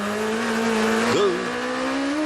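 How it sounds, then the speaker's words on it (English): GP2 race car at the 2005 Turkey round with its wheels scrabbling for grip, heard close and loud: a sustained engine drone dips and wavers sharply at mid-clip, then climbs again as the throttle is reapplied. "You can hear the wheels there scrabbling for grip, the engine note going up and down as he tries to apply the throttle."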